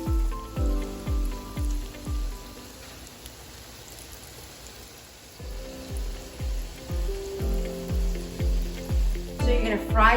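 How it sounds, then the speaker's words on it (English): Eggplant slices frying in hot oil, crackling and sizzling loudly and steadily at close range, with a run of soft rhythmic thumps repeating beneath it for most of the time. "Look at that sizzle, baby."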